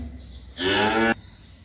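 A single short, close moo from a 10-month-old Holstein Friesian heifer calf on a dairy farm, lasting about half a second and clear above a quiet background.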